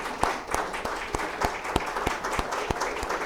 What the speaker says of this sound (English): You all stand up and applaud for him.